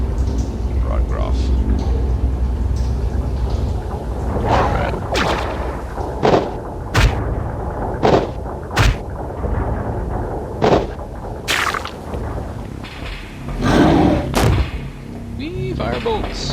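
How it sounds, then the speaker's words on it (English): Fire bolt spells hit in Geneforge 4, a series of sharp blasting impacts at irregular intervals over a rumbling game background, with a voice talking throughout. "Wee, fire bolts."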